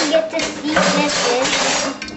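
A spoon scrapes and clinks against a metal vessel while laddu boondi is stirred into sugar syrup, giving quick rattling strokes close up, with faint talk in the background.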